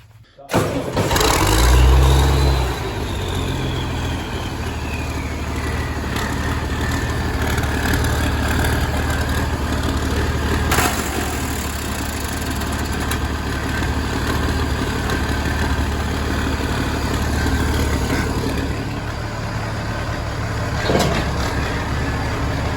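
A tractor engine turns over and fires, giving a brief heavy burst, then settles into a steady, close, even idle that runs on at constant loudness for about twenty seconds, with no talk.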